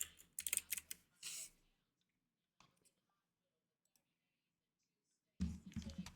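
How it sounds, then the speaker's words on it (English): Typing on a computer keyboard, close and quiet, in short bursts of clicks with long silent gaps between them. "What is going on with my keyboard?"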